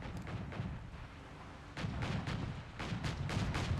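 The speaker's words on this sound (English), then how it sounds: "Did have a mortar deployed now by Symbiosis." Mortar artillery fire in the real-time strategy game Company of Heroes 3, a series of muffled, distant booming thuds at irregular intervals over low rumbling battlefield ambience.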